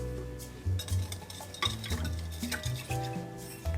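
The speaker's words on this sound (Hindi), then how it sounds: "मिक्स कर लेना है हमने।" A spoon stirs chilli powder, chaat masala and salt into a red bean chaat mixture in a pan, giving a series of close scraping and clinking strokes over a low hiss, with no voices.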